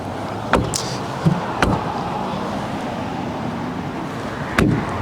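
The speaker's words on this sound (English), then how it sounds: "Closing up the tailgate itself." Tailgate of a 2014 Holden Calais V VF being closed, heard as a few sharp, close thumps and clicks spaced out over a steady background hum.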